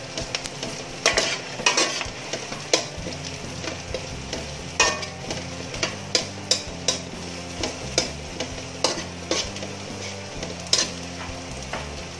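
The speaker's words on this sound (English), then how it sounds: "After we put the onion, next, we put the garlic." Onion and garlic fry in a pan for lechon manok paksiw, a steady close sizzle broken by regular scraping stirs of the spoon against the pan.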